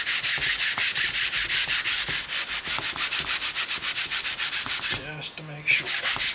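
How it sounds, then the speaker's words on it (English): Flat sandpaper rubbed over a composite plane tail in quick, even back-and-forth strokes, a close, loud rasping rhythm with a short pause before the strokes resume, no talking. "and sand it a little bit."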